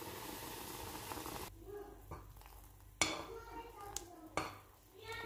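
Caramel with cream being stirred in a pot, a spoon scraping and clinking against the metal with a few sharp knocks, close and fairly quiet after a stretch of steady background noise.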